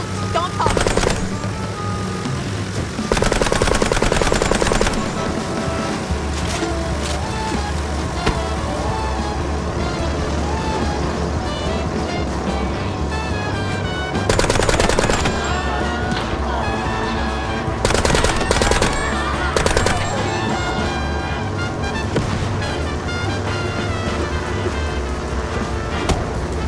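Rapid gunfire in the video game Mouse P.I. for Hire, repeated bursts of shots over a busy game soundtrack, with characters talking in between.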